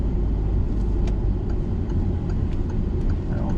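A car engine drops to a steady low rumble as the accelerator is released during a learner driver's lesson, with continuous loud road and engine noise throughout.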